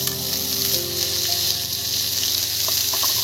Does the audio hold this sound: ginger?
yes